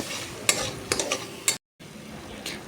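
A spoon scrapes and stirs spice masala with salt and tomato in a frying pan for prawn malai curry, giving a few distinct clattering strokes over a soft sizzle, with a brief silent gap.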